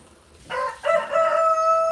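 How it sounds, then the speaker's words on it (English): A rooster crows close by in the middle of the night, one clear drawn-out call that rises sharply and then holds steady against a quiet background. "My roosters crow in the middle of the night."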